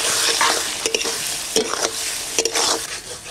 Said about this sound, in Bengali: মা ভালো করে নেড়ে নাও।